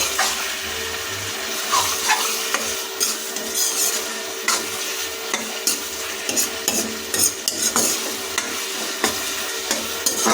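Tomato, green chilli and chicken skin sautéing for ghugni: a constant sizzle with frequent rhythmic scrapes and knocks of a spoon stirring through the pan, close and fairly loud, no voices.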